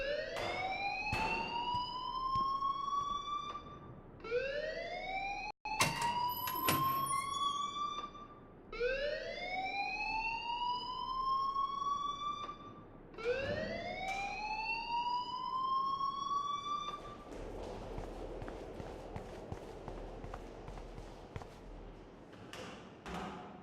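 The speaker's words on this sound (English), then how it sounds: "please turn off that alarm since that's your job" Repeated rising electronic alarm tones in the Life is Strange video game, sweeping upward in five loud, close bursts with short gaps, followed by a noisier stretch where the tone fades out.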